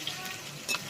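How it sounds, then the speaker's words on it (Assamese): Potatoes frying in hot oil for an Assamese dry pork fry, a steady soft sizzle with a brief louder burst near the end, no voices. "তেল গৰম হৈ গ'ল আলু বহাই দিলোঁ"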